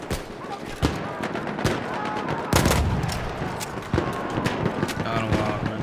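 Rifle shots from a Model 10A in the online shooter Frontlines, sharp single cracks spaced irregularly among distant battle gunfire and game noise.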